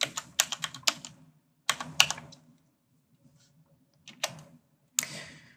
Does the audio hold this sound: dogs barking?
no